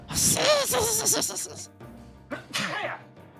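A loud, close sneeze bursts out at the start, followed by brief murmuring and a second short burst of sound.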